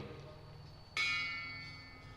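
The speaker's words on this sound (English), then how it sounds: "As I read each name, he will tap the bell." A single memorial bell at a Memorial Day observance in Northborough, tapped once as a name is read, giving one clear metallic strike that rings on and slowly decays over a low background hum.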